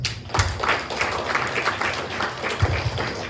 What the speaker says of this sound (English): they deserve our round of applause